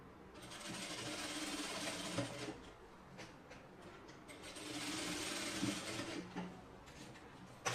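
A sewing machine stitches a dress shoulder seam in two bursts of rapid mechanical whirring and clatter, with a pause and small handling clicks between them, close and fairly quiet.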